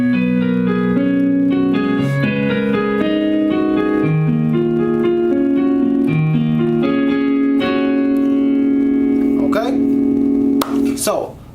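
Solo piano plays part 2 of a song, sustained chords over a steady left-hand bass, close and clear, with a brief voice near the end.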